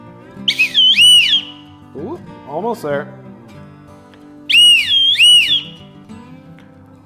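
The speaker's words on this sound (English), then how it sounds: "that is what vibrates to create the sound of the whistle" A shrill, wavering homemade tin whistle blown in two bursts, with a short spoken remark between them.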